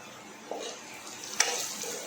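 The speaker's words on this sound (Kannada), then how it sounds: "ನೋಡಿ, ಫ್ರೈ ಆಗ್ತಾಯಿದೆ." Onion, garlic and spices fry in oil in a pan for tomato gojju, with turmeric about to go in: a faint, steady sizzle broken by a couple of short stirring scrapes.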